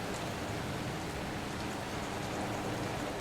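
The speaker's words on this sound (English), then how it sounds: "I like the raining look here." Steady rain falls in the video game Dying Light, a dense, even patter that fills the scene without pauses, moderately quiet, with no voices.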